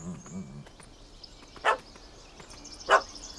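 Two short, sharp barks from a dog in The Witcher 3, spaced about a second apart over quiet ambient game sound, with a brief low voice murmur at the start.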